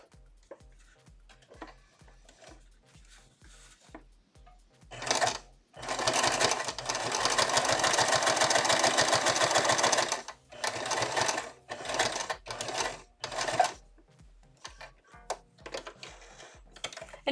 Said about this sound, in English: I'm just going to sew down one side because the rest of it's all going to be hidden inside a seam.